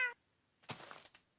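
A cat meows once in the video game Minecraft, a short, clear call at the very start, followed by a pause and then scattered game sounds.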